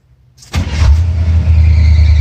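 A Chevrolet Scottsdale pickup truck engine with new parts cranks and catches after a brief quiet moment, then settles into a loud, steady idle rumble close by.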